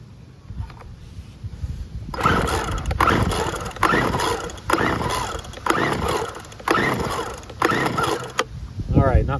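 A curbside Weed Eater leaf blower vac engine is pulled over repeatedly on full choke without firing, making a series of about six loud rasping pull-cord strokes in steady rhythm.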